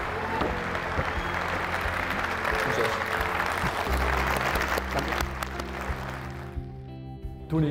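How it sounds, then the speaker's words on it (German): Applause from an audience welcoming a new head football coach, steady broadband clapping filling most of the stretch before thinning out toward the end, with faint voices beneath. "Maar een groot applaus graag voor onze hoofdtrainer van de aankomende 3 jaar"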